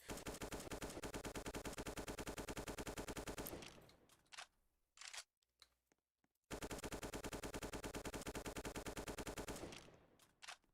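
Rapid automatic gunfire from a Roblox video game gun system, two long loud bursts separated by a short pause with a few single shots.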